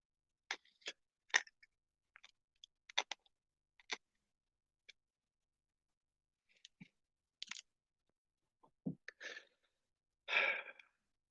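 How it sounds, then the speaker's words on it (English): Crunching hard candy close to the mouth, a run of sharp, irregular crackling bites and chews spread over several seconds with quiet gaps between them, no talking. "Just crunching some candy."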